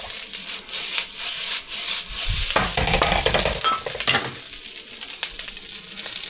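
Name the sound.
fried rice with brisket and kimchi tossed in a hot pan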